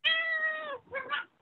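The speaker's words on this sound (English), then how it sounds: "it's the classic cat in the Zoom meeting" A house cat meows twice during a Zoom meeting, a long drawn-out call followed by a shorter, wavering one, close and clear against a quiet background.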